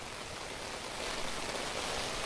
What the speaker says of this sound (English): We're getting pelted with sheets of rain.